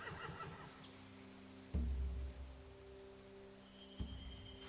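A horse whinnies amid layered game sound effects and tonal music in The Walking Dead: The Final Season video game, followed by low thuds and another rising burst near the end.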